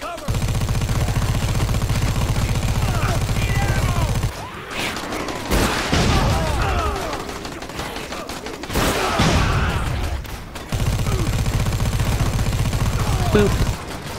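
Bursts of rapid gunfire from a zombie-fighting video game, Dead Rising 4, rattle out in dense volleys that stop and restart, with loud game effects between the stretches of shooting.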